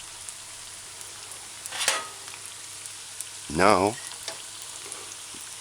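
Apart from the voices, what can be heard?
vegetable fritters frying in a pan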